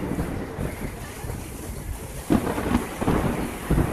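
Heavy monsoon rain pours down in Mumbai with a dense, constant hiss, while low thunder rumbles and several sharper cracks break through near the end.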